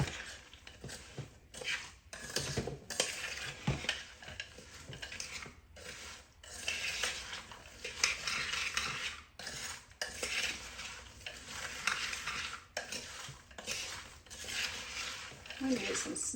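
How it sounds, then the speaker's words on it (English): Maple bourbon candied nuts stirred in a crockpot, a spoon scraping and clinking steadily against the pot for a long stretch, broken by a few short pauses. "Let's give that a good stir."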